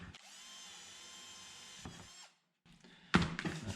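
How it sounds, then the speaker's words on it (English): A power drill bores into a wooden stair tread jig piece, a steady whining run of about two seconds that winds down, a brief pause, then a louder burst of drilling with rattling. "So yeah, I'll drill this one out too."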